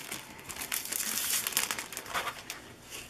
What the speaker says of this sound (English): let me get the plastic off because then you can really see it.